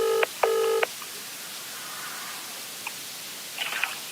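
Telephone keypad tones beep twice in quick succession, each a clean stacked dual tone, as a call is dialed; faint chirps follow over a steady hiss with no talking.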